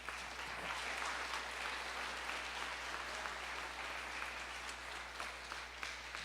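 A church congregation claps for Jesus in a dense, continuous round of applause that holds steady from start to finish over a low background hum, with no clear talk on top.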